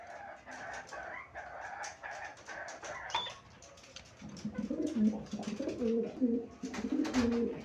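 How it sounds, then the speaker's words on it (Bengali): Lahori Sirazi pigeons coo in low, rolling, throaty calls close by, preceded by fainter higher bird calls and background chatter. "এটা লাহোরি সিরাজি জাতের কবুতর।"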